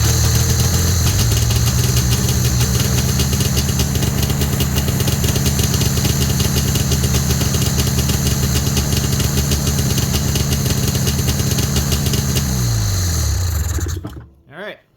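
A snowmobile engine, just fixed after a carburetor repair for leaking, runs loud and close at a steady rough idle for about twelve seconds, then its pitch drops and it cuts out near the end.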